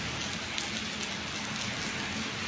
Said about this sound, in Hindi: heavy rain eight Solan